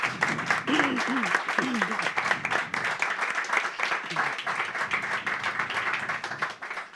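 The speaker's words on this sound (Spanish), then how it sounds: "gracias por vuestros aplausos" Audience applause fills a talk at a readers' association gathering, a steady broadband clapping wash lasting several seconds, with a few voices and murmurs mixed in underneath.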